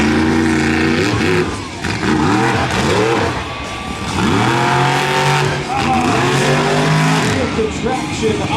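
The monster truck Shell Shock roars loudly as it goes for a front wheelie on the track at a monster truck show, its engine rising and falling through repeated revs with tire noise and crowd sound mixed in.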